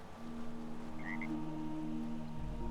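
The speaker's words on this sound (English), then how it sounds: "you can hear my frog around here somewhere" A frog croaks a few times in a Fallout 4 swamp, short faint calls over a steady ambient drone.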